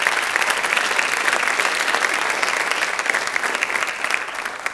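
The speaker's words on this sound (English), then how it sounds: "So a round of applause for Mr. Donald Woodworth." A sustained round of applause from an audience at a school music honor society induction ceremony, dense and even clapping that tapers off slightly toward the end.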